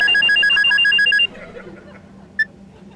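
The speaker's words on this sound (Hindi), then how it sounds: "फोन आ रहा है, फोन।" A telephone rings loudly in repeated electronic trills, then stops abruptly; a single brief ring follows a moment later over quiet room background.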